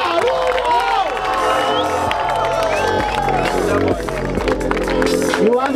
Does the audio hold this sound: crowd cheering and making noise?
yes